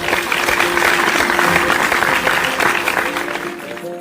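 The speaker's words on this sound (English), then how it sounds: "claps her hands" Loud, dense hand clapping that continues without a break, like sustained applause, heard close and with nothing else over it.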